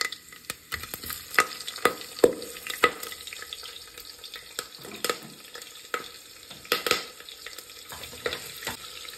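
Whole pulao spices sputter and crackle in hot oil, with sharp irregular pops and a soft sizzle close by, and no voices.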